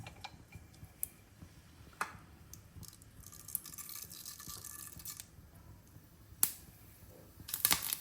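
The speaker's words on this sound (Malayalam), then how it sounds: "കടുക് പൊട്ടി തുടങ്ങുമ്പോൾ" Mustard seeds pop in hot oil in a pan: faint, sharp, scattered crackles and ticks at irregular intervals, gathering into a quick cluster of pops near the end.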